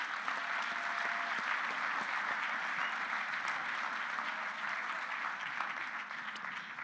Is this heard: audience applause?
yes